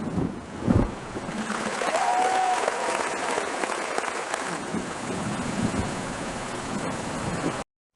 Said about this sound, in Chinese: 选择一段雷雨天音效